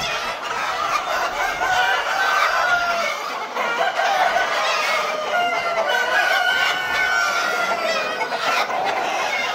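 Sonali classic super hybrid rooster crowing among clucking chickens in a poultry flock; steady, loud, busy farmyard cackling throughout with repeated crow-like calls standing out.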